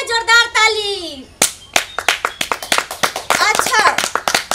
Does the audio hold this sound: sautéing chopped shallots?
no